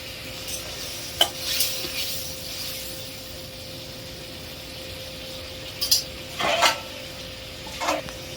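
Masala and potatoes sautéing in a pan with ginger-garlic paste, a low steady background sizzle broken by a few scattered stirring and clinking scrapes, no voices.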